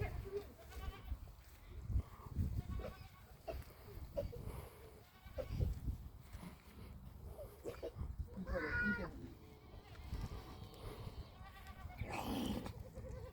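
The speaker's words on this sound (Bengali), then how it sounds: "বাবারে কত বড় বড় ছাগল।" Large goats bleat in a few scattered, fairly distant calls among rustling and shuffling sounds, with faint voices in the background.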